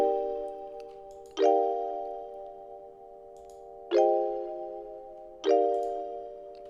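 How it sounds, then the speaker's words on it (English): A bright synthetic bell in a music beat strikes three times at uneven intervals. Each clear, ringing tone decays slowly in an otherwise quiet mix. "I had a bell, something like this"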